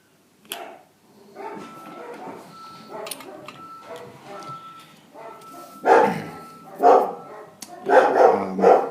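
Dogs barking at people passing on a public road, several sharp barks in bursts that grow louder toward the end, mixed with background household sounds and a faint tonal beep.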